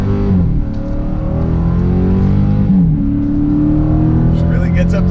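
A 2018 Dodge Charger 392 Hemi sport sedan pulls hard in first gear toward its roughly 6,000 RPM redline, its loud V8 note climbing steadily in pitch inside the cabin before shifting and building again.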